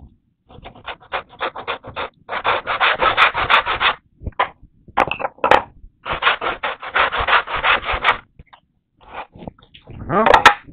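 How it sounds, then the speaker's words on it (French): A hand tool paring the top wooden rail of a hand-cut tenon, rasping in repeated bursts of quick scraping strokes with brief pauses between, close and fairly loud. "je vais continuer à raser la traverse du haut"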